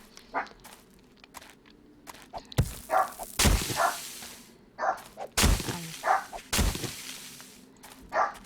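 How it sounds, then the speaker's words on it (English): Dogs barking at home in short, sharp bursts spread across the clip, a few louder close barks standing out among fainter ones, with no talking over them. "if I could get my dogs to stop barking"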